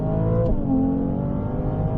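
A Ferrari 298 GTB with 820 horsepower on track at the Circuit de La Ferté-Gaucher, its engine droning steadily under light throttle with a brief lift midway, heard continuously from inside the car.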